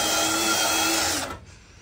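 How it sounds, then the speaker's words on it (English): A power drill drills out spot welds on a car body, whining at a steady high pitch, close and loud, then spins down and stops near the end. "Now we're just drilling out the spot welds"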